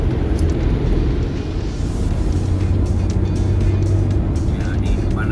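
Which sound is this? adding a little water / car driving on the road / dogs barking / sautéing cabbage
car driving on the road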